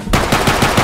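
Rapid gunfire from a gun in a Roblox game, a loud, close burst of shots fired in quick succession with no talking.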